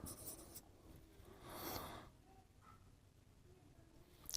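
A pen scratches out a sentence in several quiet strokes, with a slightly louder burst of writing in the middle, all at close range with no voices.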